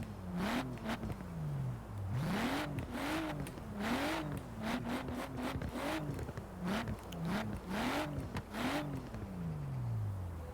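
Video game drift car driving and drifting, its engine revving up and down in repeated swells as it slides, with squealing tires, loud and continuous throughout with no talk.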